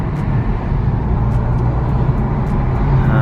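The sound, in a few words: car turbocharger whooshing while driving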